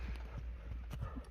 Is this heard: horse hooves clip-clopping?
yes